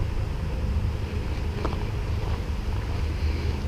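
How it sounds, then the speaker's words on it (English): A creek flows steadily nearby beneath a bridge on a street named for it, a continuous broadband rush of water with some wind noise, with no talking over it. "You can hear the creek still going."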